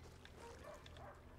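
A dog barks in the video game Fractured Minds, giving a couple of short yips in a quick burst over a low background rumble.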